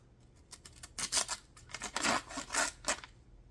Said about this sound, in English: Let's test this the degouger blade